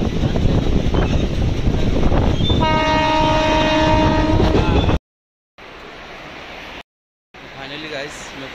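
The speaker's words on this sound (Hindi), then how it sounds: "अभी ट्रेन आ गई है, आप लोग को दिख रहा होगा थोड़ा बहुत, देख सकते हो।" A train pulls into Kopar Khairane station with a loud, steady rumble, and a long horn blast sounds partway through. The recording then cuts out twice into brief silences before fainter station noise returns.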